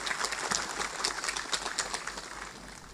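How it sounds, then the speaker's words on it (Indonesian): An audience at a large Banser rally in Indonesia applauds the national police chief, a dense, steady clatter of many clapping hands that slowly fades. "Saya berikan aplaus pada beliau."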